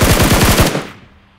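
Automatic gunfire in PUBG Mobile: a loud, rapid burst of about eight shots in quick succession, cut off abruptly with a short fading tail and no voices.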